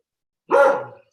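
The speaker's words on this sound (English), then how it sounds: "Sorry about my dog." A single sharp dog bark breaks an otherwise silent room during a town select board meeting, close and fairly loud.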